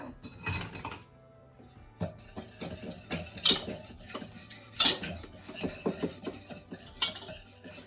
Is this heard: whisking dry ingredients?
yes